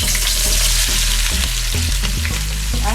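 Onions and scallions frying in a pot for chicken soup, a loud, steady close sizzle with occasional stirring clatter and bubbling.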